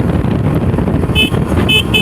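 A Hero Xtreme 125R motorcycle being ridden, its engine a steady close rumble with wind noise, while a few short high-pitched beeps sound near the end.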